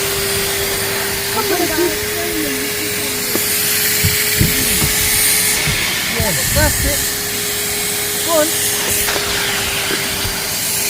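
A Henry vacuum cleaner runs while cleaning a car, giving a steady loud whirring hiss with a constant motor hum throughout as a child and an adult talk over it.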